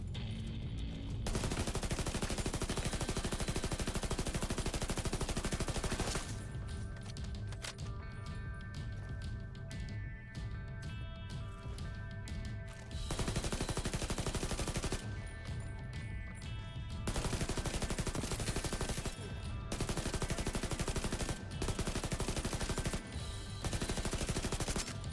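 Sustained rapid gunfire rattles through a Division 2 firefight, long automatic bursts separated by brief pauses, harsh and loud across the whole stretch.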